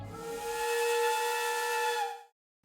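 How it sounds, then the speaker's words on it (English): A steam whistle blast sounds at exactly 7 a.m. to signal the start of the workday, one long, loud, steady tone with a hissing edge that holds for about two seconds and then cuts off sharply into silence. "a whistle blast sounded"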